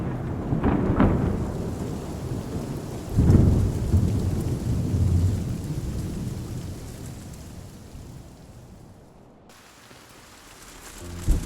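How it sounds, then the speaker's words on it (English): Thunderstorm with steady rain in the video game Love and Deepspace: loud rolling thunder cracks near the start and again around three seconds over a continuous rain wash that thins out toward the end before swelling again. "So many gray clouds. I guess the storm's brewing."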